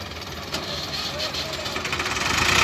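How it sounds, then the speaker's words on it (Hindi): Massey Ferguson MF 260 tractor engine cranking over without catching: a rough, rhythmic churning that grows louder and faster toward the end, with voices talking nearby. "ट्रैक्टर नहीं पटीजा"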